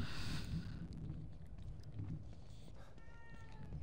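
A cat in the video game The Evil Within 2 gives a short meow at the start over low rumbling ambient game sound, with no talking.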